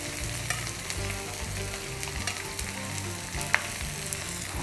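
Sliced onions, halved whole chillies, curry leaves and fennel seeds frying in coconut oil for a Kerala egg roast, a continuous busy sizzle with stirring clatter and one sharp clink.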